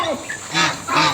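Several short honking calls from a goose on a farm, fairly close, with brief pauses between them.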